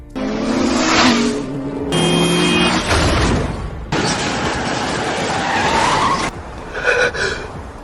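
Film scene of a speeding car skidding and hitting a motorcyclist: loud tire squeal and engine roar, abrupt cuts between intense screeching and rumbling impact noise, with no talk.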